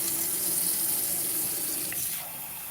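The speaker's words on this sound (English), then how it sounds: "you're gonna actually drink water directly from the tap." Tap water runs steadily into a sink in a home in Argentina, a close, continuous splashing hiss that eases slightly near the end.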